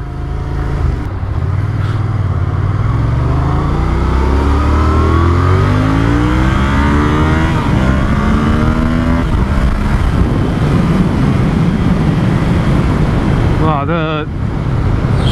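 Engine of a 2016 Yamaha XSR700 twin-cylinder motorcycle under way on a coastal road, its low note rising and falling steadily through gear changes, loud and close over constant wind rush.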